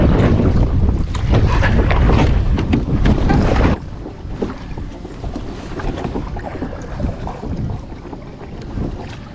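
Wind roars heavily across the microphone on a canoe out on the water, a loud buffeting rush that drops suddenly to a softer, gusty hiss with faint knocks.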